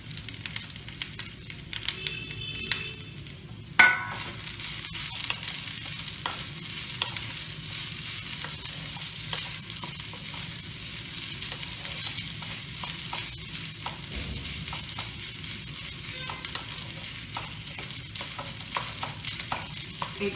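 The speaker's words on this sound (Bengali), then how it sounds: "এবার আমি চিকেন কিমাগুলো এতে দিয়ে দেবো।" Chicken mince for a pie filling fries in a pan with a quiet, continuous sizzle, joined by repeated light scraping and clinking of a spatula stirring, close up with no talk.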